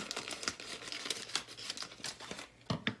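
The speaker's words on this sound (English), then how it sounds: "some scissors, and we're going to cut this open" A paper bag of red velvet mix crinkles and rustles as scissors cut it open, close crisp crackling throughout with a couple of sharper snips near the end.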